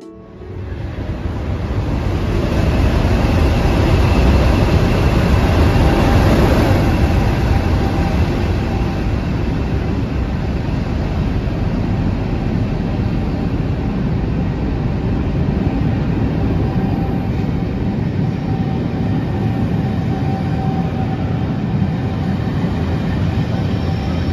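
A train departing Beverley station rumbles loudly and continuously, building up over the first few seconds and then rolling on steadily with a dense, roaring clatter.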